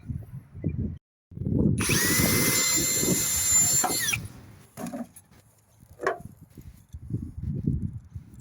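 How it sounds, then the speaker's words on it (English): A power drill bores through a downpipe elbow for rivets, one loud, steady burst of whirring lasting a couple of seconds, surrounded by clunks, handling knocks and a short squeak of the fitting being worked into place. "now I'm going to put a rivet there and a rivet there, and that'll hold it in place."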